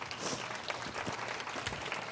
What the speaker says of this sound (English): Let's give Lynn a round of applause.